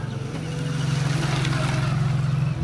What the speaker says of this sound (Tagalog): pagilid muna tayo kasi may motor